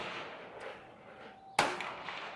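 A single sharp crack from a Ruger LCP Max .380 pistol at an outdoor target, one loud shot with a short decaying tail after a quiet stretch.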